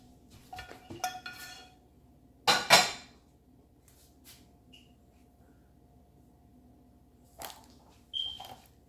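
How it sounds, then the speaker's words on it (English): Shrimp and stir-fried vegetables tipped into a crepe egg mixture, heard as scattered soft clinks and scrapes of utensils against a bowl, with a louder clatter midway and a few light knocks near the end in a quiet kitchen. "we add in the shrimp and all the other vegetables that we stir fry"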